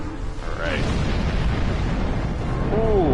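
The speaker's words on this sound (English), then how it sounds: "Ooh, that's a big explosion." A big explosion in the space game Star Trek Online booms loud and sustained, with a low rumbling roar and a brief whooshing tone laid over it.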